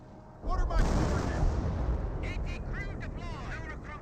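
An artillery barrage in Company of Heroes 1 rumbles as a sustained explosive roar, loud and dense at first and then tailing off, while a commentator talks over it.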